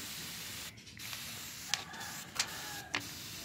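A water spray bottle is squirted at a magpie robin: three short, sharp hissing bursts spaced about half a second apart over a steady low background, fairly close.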